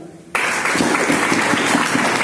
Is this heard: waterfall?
no